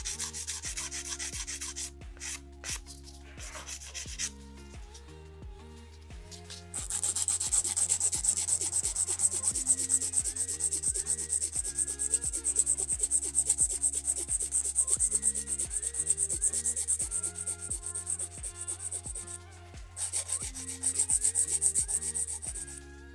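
Pink and white competition acrylic nails are filed in a steady rhythmic rubbing that grows louder and more continuous partway through, with no talking.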